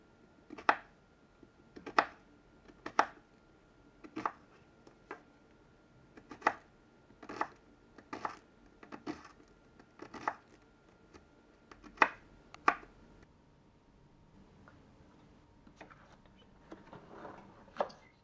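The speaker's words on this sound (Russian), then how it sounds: "Луковицу кубиками." Repeated knife strikes dicing an onion on a board, a dozen fairly regular chops close up, followed by softer, scattered tapping and scraping toward the end.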